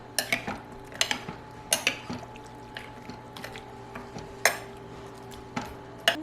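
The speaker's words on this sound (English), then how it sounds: "I'm going to go ahead and stir that all together." A spoon stirring dinner ingredients in a metal pot, with repeated clinks and scrapes against the sides at an uneven rhythm, close and fairly crisp over a low background hum.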